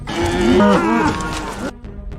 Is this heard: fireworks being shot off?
no